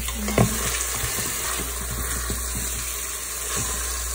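Chopped onions sautéing in a pan for spinach lentil soup, a steady sizzle with a few scraping stirs and a brief clatter near the start, with no one talking.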